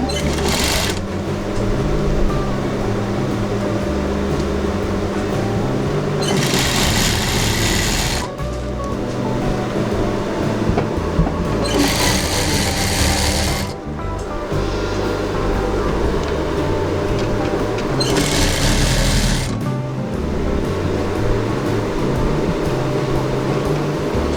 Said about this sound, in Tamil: இந்த பார்டர் பீஸை ஒரு ஓரமாக ஒரு தையல் போட்டுருங்க